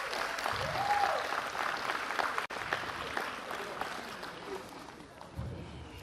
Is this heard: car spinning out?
no